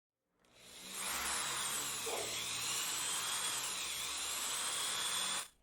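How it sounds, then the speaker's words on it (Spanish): A self-tapping sheet-metal screw is power-driven into aluminium, cutting its own thread: a close, loud, steady high whine of the driver lasting about five seconds, starting and stopping abruptly, with no speech. "El tornillo se debe de meter a presión para que vaya haciendo la rosca en el mismo aluminio"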